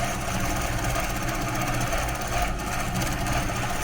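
A domestic sewing machine running continuously for free-motion quilting of pebble fill on a quilt, a fast steady mechanical whir and needle chatter, close and even in loudness with no talk.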